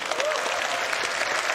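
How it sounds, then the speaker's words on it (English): An audience at a CitizenCon watch party claps in a steady round of applause, a dense wash of hand claps throughout, with a faint voice underneath. "can we get a round of applause for Tyler and Leah"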